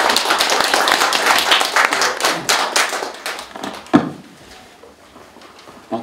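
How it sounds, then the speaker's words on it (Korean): Dense applause from a seminar audience claps strongly, then thins and tapers off to scattered claps and a final knock. "박수 부탁드립니다."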